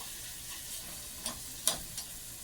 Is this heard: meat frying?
yes